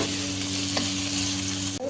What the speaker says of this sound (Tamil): தக்காளி சேர்த்துட்டு நம்ம இது கூடயே தேவையான அளவு உப்பு சேர்த்துக்கலாம். சேர்த்துட்டு நல்லா கிளறி விட்டுக்கலாம்.